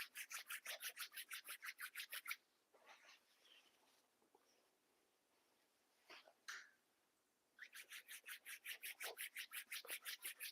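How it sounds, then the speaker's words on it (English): Palms rub briskly together during a yoga class in a steady, rapid swishing rhythm. The rubbing stops for a few seconds of quieter shuffling, then starts again at the same quick pace. "Rub your palms one more time"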